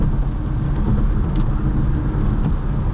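A Porsche Macan S engine with a bottom-end fault, a heavy low rumble running steadily while the car drives, heard from inside the cabin, with no speech.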